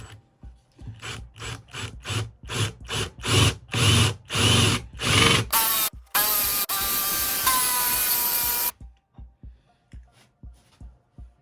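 A cordless drill whirs in repeated short bursts, then runs in one long grinding stretch as it bores through hardwood, loud and close, before stopping.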